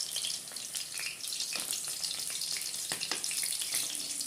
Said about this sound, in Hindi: देखिए कितना अच्छे से तल गया है मिर्ची।